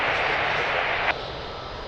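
An aircraft on approach to Lisbon Airport runway 02 gives a continuous loud roaring engine rush that holds steady, with a brief bump and a slight drop in level partway through.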